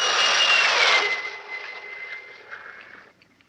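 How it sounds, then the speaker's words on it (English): Jet fighter aircraft flying overhead in a 1959 science fiction film, a loud whining roar that peaks early and then fades steadily as it recedes into the distance. "they were gone, even to the piercing eye of radar and the speeding jet fighters"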